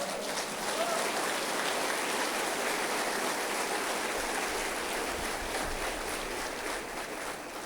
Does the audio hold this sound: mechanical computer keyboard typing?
no